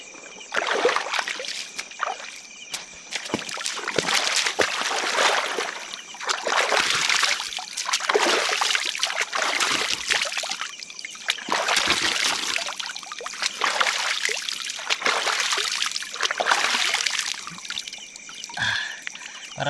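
River water splashing and trickling in repeated bursts as someone washes their face at a clean mountain river campsite in Bokod, Benguet, close and fairly loud with brief pauses between scoops.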